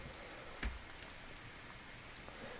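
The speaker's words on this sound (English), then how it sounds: "Instead, the rain seems to increase." Steady rain falls in the visual novel Katawa Shoujo, a constant close hiss of drops with a single soft thump partway through.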